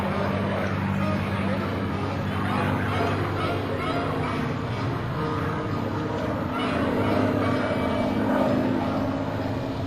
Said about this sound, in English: Mr. Jim Beasley, in his beautiful P-51 Mustang.